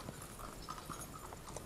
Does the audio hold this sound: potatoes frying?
no